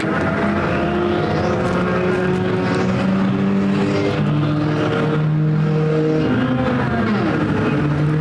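Mini stock race cars scream around a half-mile speedway at Perris Auto Speedway, their overlapping engines rising and falling in pitch as they accelerate and pass, forming a constant loud roar.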